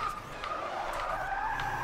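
Car skidding and sliding in the racing game Forza Motorsport 6, during a race on a tricky circuit: a steady, loud tire squeal stretches through the whole moment, layered over engine roar.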